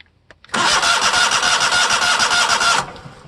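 A Kohler V-twin engine on a Simplicity Legacy 20 lawn tractor cranks briefly and then fires, running loud and steady for about two seconds before cutting off abruptly.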